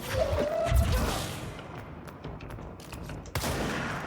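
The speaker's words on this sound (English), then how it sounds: "Shotgun to the face." Loud gunfire and crashing blasts erupt in a video game set in a shifting hotel maze, a dense barrage at first, then scattered thuds and a final heavy boom.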